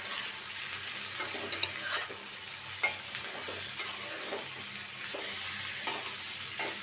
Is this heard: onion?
yes